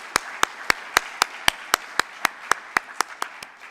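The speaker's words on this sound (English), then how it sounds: "Let's give them a round of applause, please." Crisp, evenly spaced claps ring out at a banquet honouring graduating university athletes, about fourteen in a steady rhythm over a quiet room.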